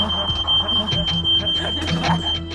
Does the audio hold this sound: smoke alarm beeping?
yes